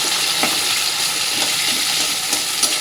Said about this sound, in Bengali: এগুলো একটু ভাজা ভাজা করে নিই